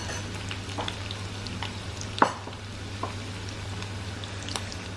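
Egg fritters fry in hot oil in a pan, a continuous fine crackling sizzle with occasional sharper pops and a clack of a utensil, no talk.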